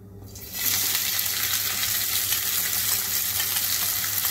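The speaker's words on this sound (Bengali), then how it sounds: "তেল গরম হয়ে গেছে, আমি পেঁয়াজ কুচিটা দিয়ে দিলাম।" Chopped onion dropped into hot oil sets off a loud, close sizzle that jumps up suddenly and then holds as a steady, dense crackle, with no voices.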